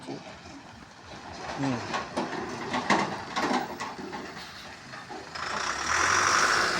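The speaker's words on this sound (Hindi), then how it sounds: "देखो गाड़ी मोटर माने आया वाया हो सब।" Cars and trucks pass along a road near a Hanuman temple, a steady rumble of traffic with a louder vehicle approaching at the end and a faint voice in the background.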